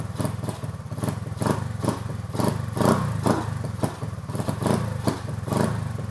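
A Honda Navi scooter engine fitted with an aftermarket GY6 CDI idles cold, a steady close chugging with rhythmic thumps and light clatter, running on its own without throttle blips.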